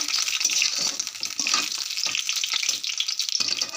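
Brinjal pieces sizzle steadily in hot oil in a pan, a continuous close, loud frying hiss with scattered crackles and pops and no talking.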